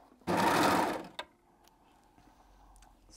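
A Baby Lock overlock machine stitches bound fabric pieces together, giving one loud, steady, close mechanical whir of about a second that ends in a click, followed by faint handling noises.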